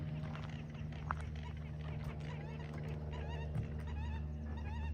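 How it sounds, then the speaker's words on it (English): American coots call around a lake at Foothills Park, Palo Alto, giving repeated short clucking and warbling notes at moderate distance over a constant low hum. "Those are coots, American coots"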